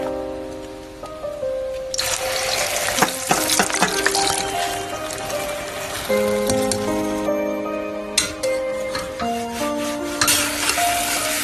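Chinese toon sprouts fry with eggs in a pan, giving a loud, continuous sizzle broken by clinks and scraping from a utensil against the pan, close up and without speech.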